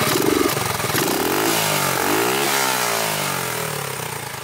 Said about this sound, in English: Motor's gonna run good.